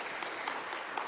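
Audience applause at an international teaching, learning and student support conference, a steady dense patter of many hands clapping throughout this short moment, moderately loud and even.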